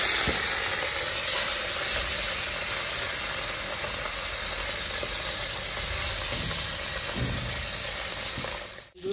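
Pomfret fish fry in hot mustard oil in a wok with a loud, continuous sizzle and hiss that holds steady at close range, then cuts off briefly at the end.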